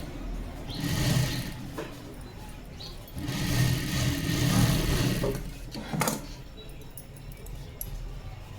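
A sewing machine stitches a blouse with a yoke band in short bursts, whirring for a couple of seconds at a time with pauses and fabric handling between runs, fairly close.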